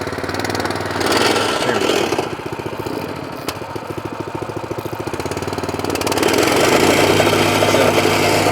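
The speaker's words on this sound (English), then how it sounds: "So, it's a self-walking plate compactor" A self-walking plate compactor with a Honda engine warms up after starting, its rapid knocking chug running close and loud, easing to a lighter idle and then rising again, with a brief spoken remark.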